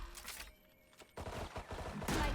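Gunfire in Valorant during a grand-finals esports match, fairly faint: a couple of bursts of rapid shots separated by a brief quieter gap, with a louder crackling burst at the end.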